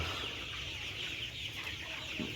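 Thirty-eight-day-old coloured broiler chickens in a farm shed make a continuous low clucking din, a dense steady flock noise with no single bird standing out.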